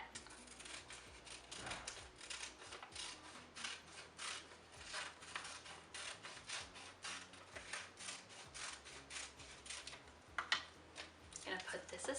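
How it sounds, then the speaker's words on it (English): Paper scissors snip around a paper pattern piece for a felt rainbow craft, a steady run of close, crisp cutting strokes with soft rustling of paper. "I'm going to take my paper scissors and cut."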